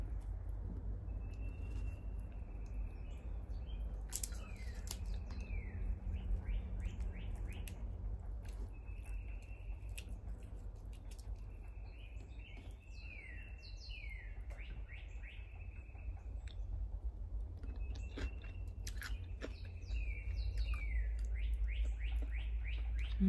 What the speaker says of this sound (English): I hear woodpecker too.